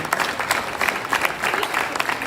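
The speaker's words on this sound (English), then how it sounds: "give a big hand clap for all these children" Crowd applause for children at a youth parliament event, a brief burst of many hands clapping, moderately loud and fairly close, with scattered sharper claps standing out.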